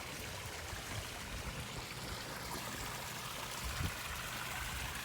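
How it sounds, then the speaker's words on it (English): Continuous bubbling and gushing of water churned by a koi pond aerator, like a steady stream, running evenly throughout without any talking. "So here we are with the aerator."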